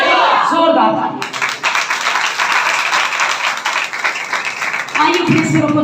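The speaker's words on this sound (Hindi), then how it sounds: "जोरदार ताली।" A church congregation breaks into dense applause, a loud, continuous wash of clapping that fills most of the clip, with a voice speaking briefly at the start and again at the end.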